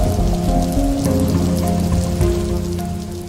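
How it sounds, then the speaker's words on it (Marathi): Heavy rain pours down in Bhandara, a loud steady wash of drops on surfaces with no pauses, easing slightly toward the end. "भंडाऱ्यातही मुसळधार पाऊस झालाय."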